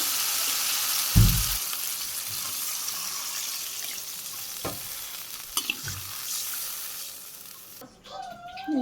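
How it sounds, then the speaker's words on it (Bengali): Potatoes sautéing in a pan in a Bangladeshi village kitchen give a steady, close sizzle with scraping stirs and a heavy knock near the start. The frying quiets toward the end as other faint sounds come in. "এই আলুগুলো আমি কষে নিই ভালো করে তারপর জল দিয়ে দিই"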